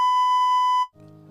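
An electronic censor beep over police squad car crash footage: one loud, steady tone lasting under a second that cuts off abruptly, leaving low, muffled background noise.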